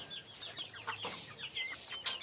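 Soft, scattered clucking from several black country hens, fairly quiet and close, with a sharper chirp near the end.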